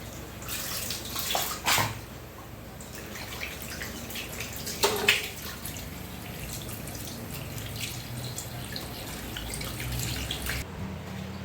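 Cut pieces of rui fish are rinsed in water, with splashing and sloshing, a few drips, and louder handling bursts near the start and middle before settling into steady washing noise.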